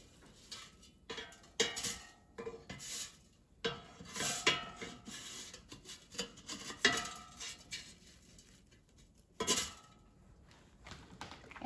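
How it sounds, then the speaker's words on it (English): Metal basket of an air fryer pulled out and frozen veggie burgers flipped with utensils, a run of close clinks, scrapes and knocks in irregular bursts against a quiet background, no talking. "let's take out the air fryer basket and flip the veggie burgers over so they cook evenly on both sides"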